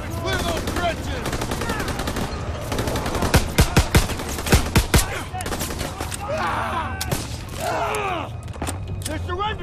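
Heavy machine-gun and rifle fire in the Call of Duty: WWII video game, with sharp, rapid bursts and pounding volleys that grow denser midway, over a battlefield din with shouting voices.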